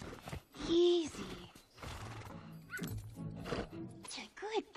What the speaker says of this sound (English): He's a bad horse.